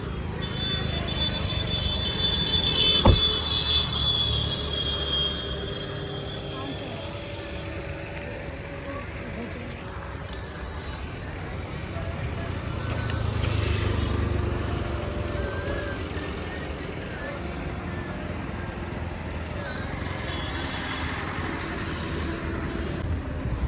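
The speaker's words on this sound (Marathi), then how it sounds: "हे बघा दिसत आहे तुम्हाला गाड्या." Vehicles and traffic at a busy bazaar in Ghugus, Maharashtra, make a steady mid-distance rumble with passing engines and a brief bump, while someone speaks over the crowd noise.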